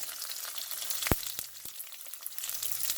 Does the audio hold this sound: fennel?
yes